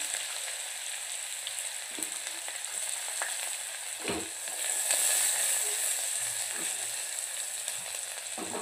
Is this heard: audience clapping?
no